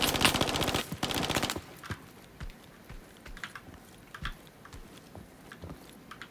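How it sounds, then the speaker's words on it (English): Gunfire in the extraction shooter INCURSION Red River: a dense burst of rapid automatic fire at the start, followed by scattered single shots and sharp impacts, some near and others more distant. "I'm taking shots from somewhere."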